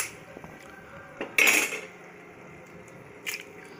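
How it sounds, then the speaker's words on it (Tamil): Eggs cracked against a bowl or pot rim for egg biryani, a sharp crack followed by a brief wet pour, then another faint knock a moment later, close and fairly quiet with no talking. "பாருங்கள் முட்டை உடச்சி ஊற்றுறோம்"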